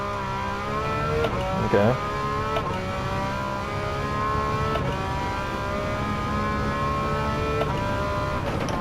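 A race car engine in Gran Turismo 7 drones steadily under throttle, its pitch rising and dipping with brief lifts and small clunks, loud and continuous, with a brief spoken word near the start.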